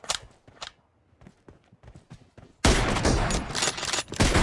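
Gunfire from a mobile shooter game in a 2v2 room match with an M24 rifle: scattered soft taps and short bursts, then a loud, dense barrage of sustained shots filling the second half.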